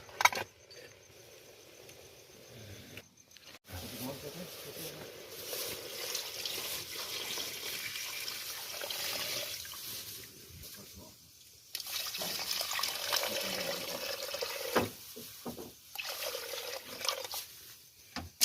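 Water is poured into a pot of fried pork bones and ginger, giving a running, splashing pour that comes and goes in bursts, with brief pauses and louder stretches toward the end.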